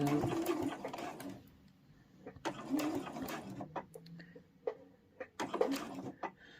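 A sewing machine stitches a lanyard close to the fabric edge, running in several short bursts with brief pauses and clicks between them, near and clear with no talking.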